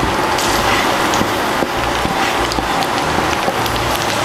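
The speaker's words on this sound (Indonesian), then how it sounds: "Kita tumis lagi sampai jamur shiitakenya harum." Shiitake mushrooms stir-fry in a pan for a vegetarian noodle topping. A dense, continuous crackling sizzle is broken by small scraping clicks, close and loud with no voices.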